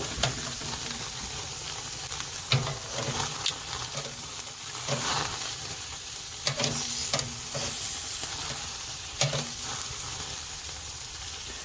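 Steaks searing on a Chud Box griddle give a steady, close frying sizzle throughout, with scattered louder crackles and spits popping over the continuous hiss.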